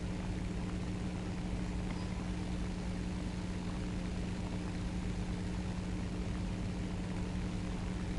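Propeller aircraft engine drones steadily during a slow climb in War Thunder, a German mid-tier plane, a constant, even hum with a low steady tone and no change in pitch, with no voices.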